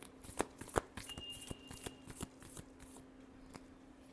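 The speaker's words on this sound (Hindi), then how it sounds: "last shuffle" Tarot cards shuffled by hand during a Leo reading make a series of soft, rapid papery riffles and taps, close and quiet, with a faint thin tone briefly in the background and no voices.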